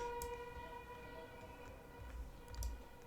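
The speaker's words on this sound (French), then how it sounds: "Si je mets maison au feu, bah, les alarmes de pompiers, ça va déclencher." Fire alarm siren in the Roblox VR video game, a steady electronic multi-tone wail held throughout, faint and distant under a low background rumble with a few soft clicks.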